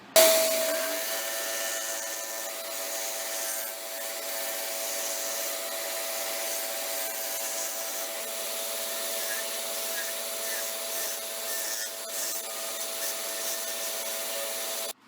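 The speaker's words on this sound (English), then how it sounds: "I'm going to turn these down and turn them into half-inch dowels." A wood blank turns on a lathe while a tool shapes it down toward half-inch dowels, a continuous close whirring hum with a steady scraping rub and a faint tonal whine, with no speech.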